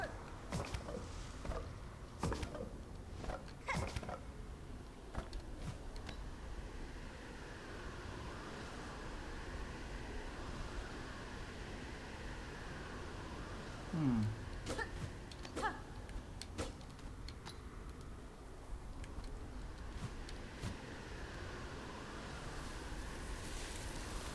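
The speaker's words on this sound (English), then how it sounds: "I haven't seen the wind hit like twice in a row like that" Wind gusts sweep through the video game Silksong as a continuous airy rushing that rises and falls over about twenty-four seconds, with scattered soft game clicks and thuds and no talk.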